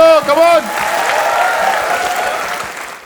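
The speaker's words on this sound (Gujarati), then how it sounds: "everybody તાળીઓ, come on" Audience applause at a Gujarati comedy show, loud sustained clapping from a crowd that swells after a brief sung phrase and fades out over about three seconds.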